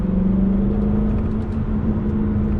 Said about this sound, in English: AMG definitely know how to build an engine, and they definitely know how to make a car sound